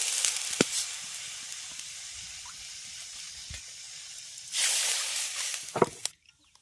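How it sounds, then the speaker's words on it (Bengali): Two bowls of water poured into a wok, a hissing rush of liquid in two bursts with small knocks between, close up, ending abruptly in quiet. "কড়াইয়ের মধ্যে দিয়ে দিচ্ছি দু বাটি জল"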